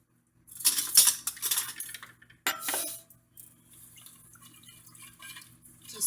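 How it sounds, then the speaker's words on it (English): Citrus pork marinade is stirred in a serving dish, with clinking utensil scrapes and wet sloshing in short close bursts, then softer faint stirring. "So now that we have all this in our serving dish, I'm just going to give it a quick mix."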